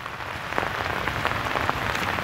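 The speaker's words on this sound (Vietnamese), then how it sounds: "Trời mưa" Steady rain falling onto floodwater during the flood season in Nha Trang, a dense continuous patter with scattered louder drops, close and even throughout with no talking.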